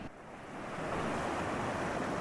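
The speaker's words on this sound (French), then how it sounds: "Ah, t'as des belles vagues, hein?" Ocean waves surging onto a wild island beach, a broad rushing wash of surf that swells louder after the first half second and then holds steady, with a touch of wind.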